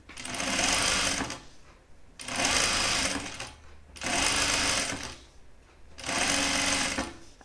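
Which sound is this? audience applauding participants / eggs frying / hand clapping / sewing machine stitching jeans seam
sewing machine stitching jeans seam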